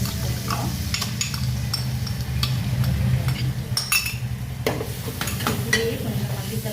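Ginger garlic paste is stirred into small onions frying in a pan for a drumstick chicken curry, a steady sizzle running throughout with scattered clinks and scrapes of a spoon against the pan.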